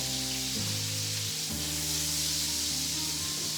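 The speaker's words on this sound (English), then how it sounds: "Now in the meantime, I'm gonna drop in my garlic." Garlic dropped into a hot pan beside a ribeye steak sizzles in a steady, close crackle, with a low tonal hum running beneath it throughout.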